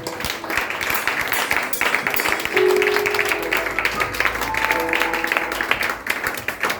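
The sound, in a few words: congregation applauding Jesus in church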